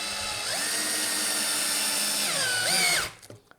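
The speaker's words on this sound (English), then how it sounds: "just drill and push down" A power drill drives a screw into a homemade wooden scoring board for a glass scorer, a steady loud whine with rising and falling pitch sweeps near the end, cutting off abruptly after about three seconds.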